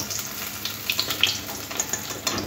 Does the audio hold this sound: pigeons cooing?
no